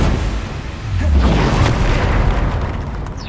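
A Confringo blasting spell explodes in the Hogwarts Legacy video game as a deep, rumbling boom with a burst of broadband noise that sustains for a few seconds.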